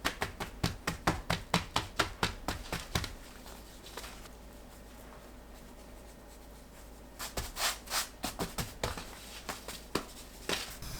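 A knife chops two green onion stalks finely on a cutting board, quick close rhythmic taps in a fast run, a pause, then another burst of slightly slower chopping.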